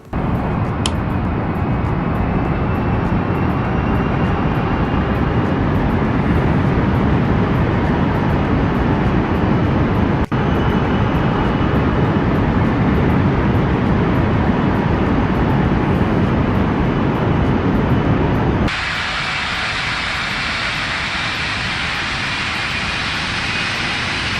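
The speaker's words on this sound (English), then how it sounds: "Now let's check the takeoff sound." An airliner takes off in the RFS flight simulator game, its engines giving a loud, steady roar that holds for about nineteen seconds and then drops abruptly to a thinner, quieter, more hissing tone for the rest.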